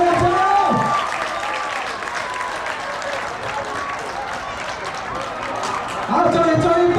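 Sustained crowd applause at a 2009 joint sports meet award presentation, steady throughout, with a voice over a loudspeaker at the start and end.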